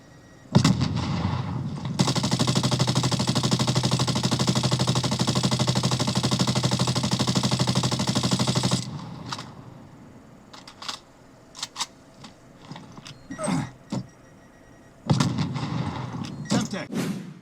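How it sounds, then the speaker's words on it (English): Video game combat with a Semtex grenade thrown amid gunfire: a long sustained burst of dense automatic fire, then scattered sharp shots and bangs, and another heavy burst of fire at the end. "Throwing Semtex."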